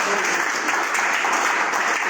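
Audience applause and clapping for a product at a network marketing business meeting, a dense, steady roar of many hands filling the whole stretch.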